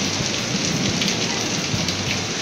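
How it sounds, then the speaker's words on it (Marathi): Steady, loud rain falls across a town in Dhule during a hot summer, with a broad continuous hiss of drops striking surfaces and low rumbles of thunder underneath, no voices present. "पाऊस चालू झाला इथे"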